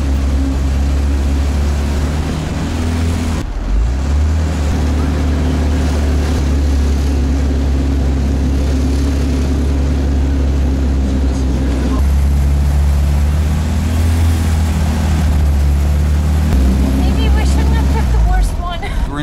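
Inside a loud vintage motorized three-wheeler (bengbeng) on a street in Chongqing, China, a constant heavy engine drone rumbles throughout with a shift in tone partway through, while a person talks over it.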